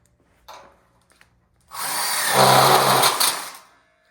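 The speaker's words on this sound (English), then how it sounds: "Now we're screwing in these bar studs in the field here." A power drill drives self-drilling screws into steel studs for an outdoor kitchen frame: a short faint whir, then a loud sustained whine of about two seconds as the screw bites and seats.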